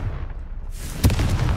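A blasting spell goes off in the video game Hogwarts Legacy, a short sharp burst followed by a rumbling boom over steady game ambience.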